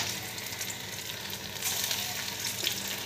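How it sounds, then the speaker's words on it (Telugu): Small punugulu, fritters of rice flour and yogurt batter, frying in hot oil, giving a steady close bubbling sizzle with no voices. "కొంచెం ఇదిగో చూడండి, నేను వేస్తున్నాను పునుగులు"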